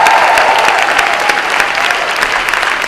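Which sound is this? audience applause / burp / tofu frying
audience applause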